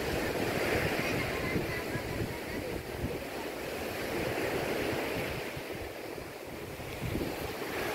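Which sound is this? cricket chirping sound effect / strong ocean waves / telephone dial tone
strong ocean waves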